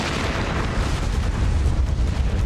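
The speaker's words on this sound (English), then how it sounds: "Where'd the explosion come from?" A loud, sustained rumbling blast from an explosion in the video game Metal Gear Solid: The Twin Snakes, with heavy low-end roar that fills the whole moment without any talk.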